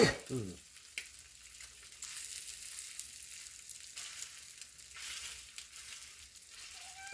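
Slices of Spam sizzle and spit steadily in a hot pan, a continuous crackling hiss with occasional louder pops and a brief scrape at the start.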